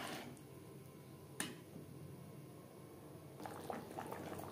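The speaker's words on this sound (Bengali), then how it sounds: "তিন 4 মিনিট গ্রেভি বেশ ভালো করে ফুটিয়ে নেব।" Fish curry gravy made with taro and tangra fish bubbles in a pan, a quiet steady simmer with soft popping and a few small sharp crackles.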